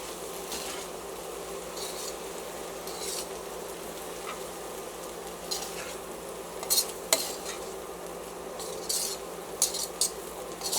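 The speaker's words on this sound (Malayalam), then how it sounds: "അപ്പോൾ ഇനി റൈസ് ഇട്ടിട്ട് നന്നായിട്ട് മിക്സ് ചെയ്തിട്ട്" Rice is stirred and mixed into fried rice in a pan. A utensil scrapes and clinks against the pan in irregular close taps over a continuous soft sizzle, with no talking.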